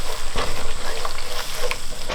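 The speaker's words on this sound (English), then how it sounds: "we just need to scramble these" Eggs, lightly whisked, scrambling and sizzling in a frying pan while making chicken mee goreng, a steady close fry hiss with a few scraping stir strokes, no talking.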